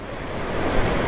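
Rushing river rapids, a dense steady roar of churning water that swells slightly near the end.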